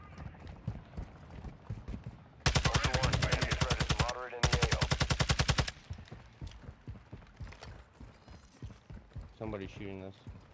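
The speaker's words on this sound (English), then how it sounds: "Somebody's shooting us." Two long, loud bursts of rapid automatic gunfire in the Call of Duty Warzone video game, separated by a brief pause, with quieter game sounds and voices before and after.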